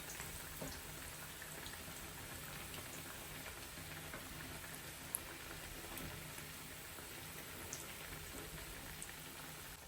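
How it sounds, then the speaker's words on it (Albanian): Pishija, yeast-raised dough fritters, frying in hot oil, a steady faint crackle and bubbling sizzle throughout with no voices. "Pishijat janë skuqur nga njëra anë, tash i kthejmë nga ana tjetër."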